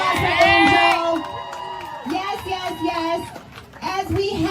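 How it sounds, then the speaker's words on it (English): An audience at a live event cheers, whoops and shouts, with children's voices mixed into the crowd noise in loud, uneven waves. "Big round of applause for Angel."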